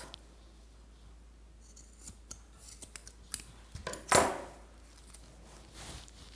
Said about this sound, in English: I have completed the keychain and now cut the remaining ropes.